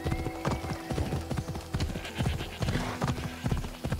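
Steady rhythmic hoofbeats of a galloping horse in the video game Assassin's Creed Odyssey, continuous and fairly loud throughout, with no talking.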